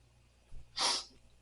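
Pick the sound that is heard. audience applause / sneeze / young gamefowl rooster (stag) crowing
sneeze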